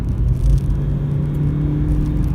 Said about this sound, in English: you see the engine's after kicking in now. If I floor the car.